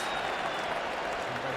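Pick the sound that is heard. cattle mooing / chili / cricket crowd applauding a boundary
cricket crowd applauding a boundary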